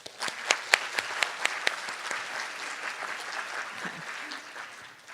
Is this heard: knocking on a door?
no